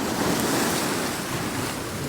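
Large stormy sea waves roll and crash onto the shore at Hopton-on-Sea, a loud, broad, continuous roar of surf buffeted by wind noise, with no voices.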